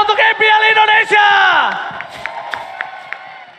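Crowd at an MPL Indonesia Season 11 playoff esports match between RRQ and Alter Ego, cheering and shouting loudly in a sustained roar that fades away, with scattered claps and whoops and a voice audible over the crowd.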